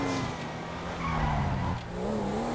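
A Porsche 911 Turbo S engine drones and tires squeal softly as the car weaves through a slalom on city streets in GTA 5, a continuous moderate engine tone with shifting pitch and no talk.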